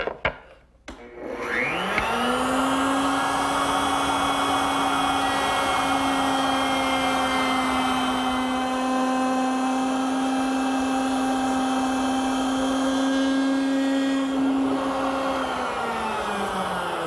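A router table bit spins up with a rising whine and holds a steady, loud, tonal scream while cutting a stopped groove in a wooden piece for a jewelry case. The pitch winds back down near the end.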